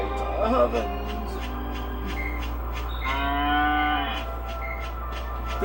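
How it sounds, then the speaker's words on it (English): Cow mooing in Dragon Quest 8, a loud, drawn-out moo with another shorter call, over steady game background music and a low hum. "If a cow looked at you dead in the eyes and made that noise, what would you do"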